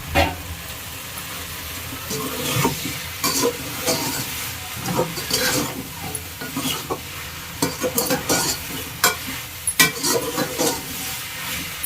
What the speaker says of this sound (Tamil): பீர்க்கங்காய் கத்திரிக்காய் இப்படி இதை வதக்கிக்கணும் நல்லா